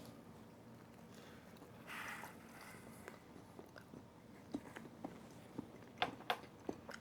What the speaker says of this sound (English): let me get another bite